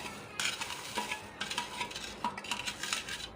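A spoon stirs ground ingredients into a panjiri mixture cooking in desi ghee, with repeated scraping and clinking strokes against the pan over a faint sizzle and no talking.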